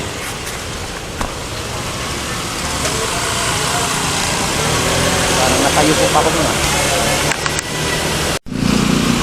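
Congested road traffic around a town market heard from a moving motorcycle, with steady engine and road rumble and someone talking over it throughout.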